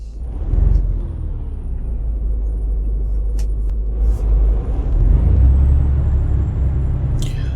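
A Mercedes Actros truck engine, modded, in Euro Truck Simulator 2, rumbling deep and steady at close range, swelling slightly partway through, with a couple of faint clicks and a short hiss near the end.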